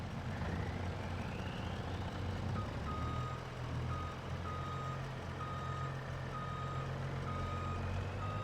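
Reversing alarm of a dump truck in Farming Simulator 25, a steady series of evenly spaced beeps sounding over a continuous low diesel engine rumble, with no talking.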